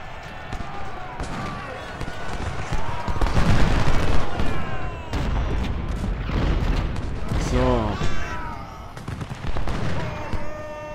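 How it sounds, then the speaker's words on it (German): Civil War cannon fire in Ultimate General: Civil War, several loud booming shots in irregular bursts amid battle noise, with someone talking over the barrage. "Na los, Kanonen! Feuer!"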